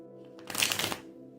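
A tarot deck shuffled once in a quick riffling burst lasting under a second, close and crisp, with a faint hum before and after.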